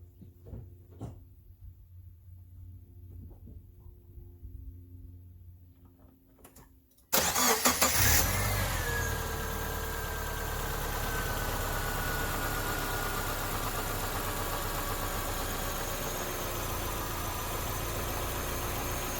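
A 2003 Subaru Forester with an overheating problem cranks and fires at about seven seconds after near silence, then settles into a steady, close idle that runs without a break to the end.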